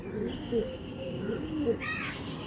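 Pigeons coo softly in short low warbling phrases, close by, with a brief higher call near the end and a faint steady background hum.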